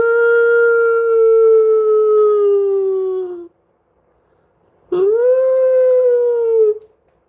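A voice imitates a woman wailing in the night at a bedroom door: two long, loud, drawn-out howling wails, the first about three seconds and gently falling, then a pause before a second rising-and-falling wail.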